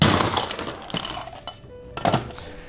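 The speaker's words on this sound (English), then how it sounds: "We're going to stir this down with plenty of ice" Ice clinks and rattles against a glass as a cocktail is stirred, a burst of bright clattering at the start, then sparser sharp chinks and a few distinct taps near the end.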